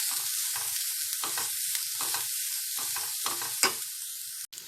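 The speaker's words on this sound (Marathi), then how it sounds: "मीडियम फास्ट गॅसवरती परतत राहायचंय" Mixed vegetables for veg fried rice stir-frying in a pan over medium-high gas, a steady close sizzle with rhythmic scrapes and tosses of a spatula, no voices.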